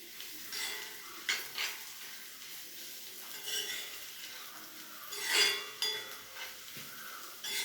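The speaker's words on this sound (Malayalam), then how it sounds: "തിളച്ച് വറ്റി വരുന്നുണ്ട്." An onion curry bubbles and reduces in a pan, with a steady sizzling hiss, occasional stirring scrapes and light clinks of a utensil against the pot, close and alone.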